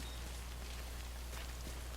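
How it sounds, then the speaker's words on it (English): Rain falls steadily in the game Death Stranding, a faint, even hiss of drops over a low constant hum, with no voices. "I'm supposed to get shelter from the rain"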